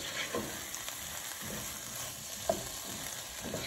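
Chickpeas and tomato sauce being stirred in a pan while they sizzle, with a steady frying hiss and a few soft spoon scrapes and taps, one sharper knock partway through.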